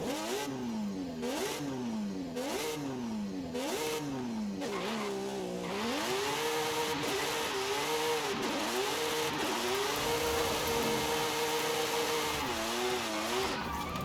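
A wide-body, RX-8-like car from a Forza Horizon 5 car pack revs its engine, pitch climbing and falling through repeated shifts before settling into a sustained high-revving drone, close and loud throughout.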